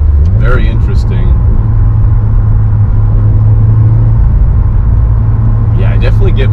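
Steady low exhaust rumble from a Subaru WRX fitted with a throttle response controller, a continuous droning idle-like growl throughout, with a person talking over it at the start and end.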